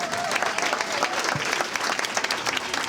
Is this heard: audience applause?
yes